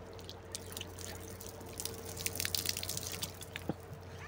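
Water drips and trickles while fresh dates are washed, a scatter of light, irregular splashes and drops up close over a faint steady hum, with no speech.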